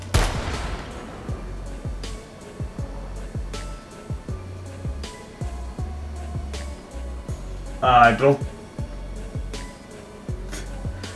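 A cannon fires in the VR shooting game H3VR, giving a loud, punchy blast that stands out among a steady series of sharp, repeated gunshot-like bangs across the scene.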